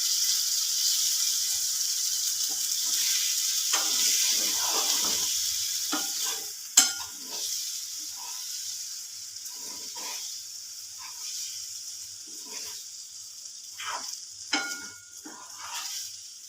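Masala pasta being stirred and mixed in a pan with the gas flame off, giving soft scraping and clinking spoon strokes over a steady faint hiss, with a louder clack midway.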